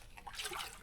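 Water running from a tap fed by an open-air water mine pours into a glass, a soft trickling splash that brightens and swells midway through a short, fairly quiet moment.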